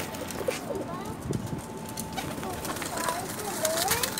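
Teddy pigeons, black-winged Salara birds from a Pakistani pigeon breed, coo softly in short, repeated calls close to the listener, with steady room noise behind them and no talking.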